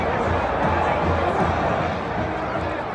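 A large crowd of Husker fans fills a stadium on a game day with a steady, distant wash of babble and cheering, even and unbroken, with no single voice standing out.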